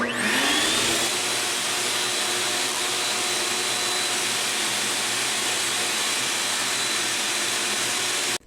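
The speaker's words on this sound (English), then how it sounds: "I just have a shop vac and it's set to blow." A shop vacuum set to blow pushes air with a loud, steady whooshing roar, used for leak-testing 4th-gen Toyota 4Runner V8 headers, holding for several seconds before cutting off abruptly.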